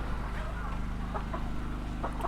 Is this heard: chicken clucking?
yes